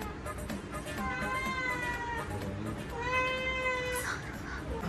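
A pet indoor cat meows twice in drawn-out, rising calls, fairly close and loud, over steady household background noise.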